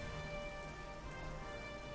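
Constant rain falls in the strategy game Strategic Mind: Blitzkrieg during a Battle of Britain mission, a soft, even patter alongside faint steady game tones with no talking.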